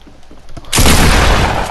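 A grenade launcher round detonates in a video game: a sudden, heavy booming blast follows a short stretch of muffled game noise, then rolls on loud and dense without fading.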